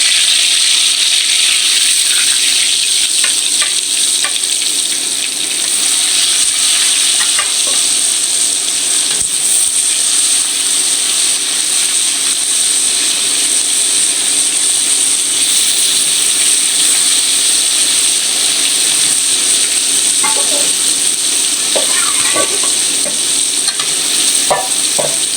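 Fish sizzles and fries steadily in a hot pan for a pointed gourd and fish dish, with occasional stirring scrapes and clinks over a dense, continuous hiss.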